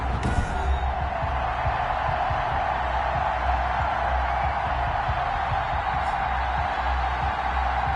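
Stadium crowd noise from a PS4 American football game, Dallas Cowboys against the home team, a steady, loud roar of cheering spectators that holds evenly throughout.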